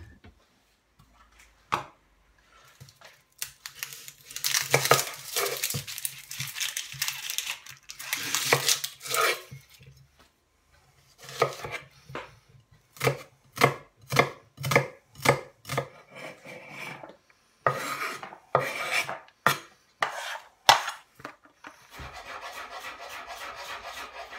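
Knife dicing onions and apples for a chip shop chicken curry: bursts of rapid chopping strokes on a board, with quieter pauses and scraping between runs, close and fairly loud.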